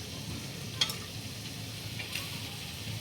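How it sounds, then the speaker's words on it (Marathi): Carrot and bell pepper sautéing in a pan with a soft, steady sizzle, punctuated by two brief clinks of stirring, with no voices. "आता याच्याबरोबरच मी ही बाकीची भाजीसुद्धा परतून घेणार आहे त्यात."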